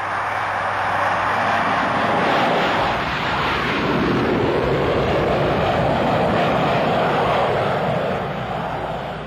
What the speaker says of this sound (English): The ear-piercing noise of supersonic aircraft filled the air